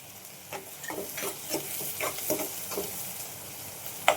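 Onions frying in oil with chili powder tipped in, giving a soft, close sizzle with repeated light stirring scrapes at a steady pace and a sharp clink at the end.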